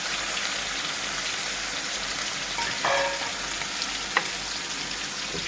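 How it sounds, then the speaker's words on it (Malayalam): Crushed shallots drop into a hot frying pan, where a continuous close sizzle carries a short stirring scrape partway through and one small clink near the end. "ചതച്ച് വെച്ച 10 ചുവന്നുള്ളിയും ചേർക്കുകയാണ്"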